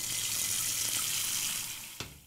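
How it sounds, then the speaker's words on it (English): Water runs from a tap into a pot in a steady, close hissing stream that tapers off near the end with a small clink, with no talking. "Then put some water in the pot."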